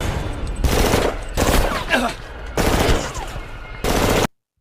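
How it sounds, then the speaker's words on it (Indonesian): Rapid bursts of automatic gunfire from the 2006 film The Hills Have Eyes, loud dense volleys in several separate blasts with short gaps between them, ending abruptly. "mereka berhasil menembaki psikopat itu"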